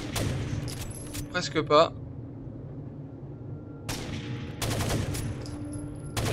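Gunfire in the Rainbow Six Vegas 2 video game: a couple of sharp bursts of shots stand out against a steady game-ambience hum, with another cluster of reports later, while a player talks briefly over it.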